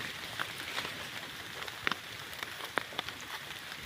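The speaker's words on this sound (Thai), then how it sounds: "ตอนนี้ฝนกระตกด้วยครับ" Light rain falls outdoors during mushroom foraging, a soft continuous patter with a few sharper scattered drops striking nearby surfaces, fairly faint overall.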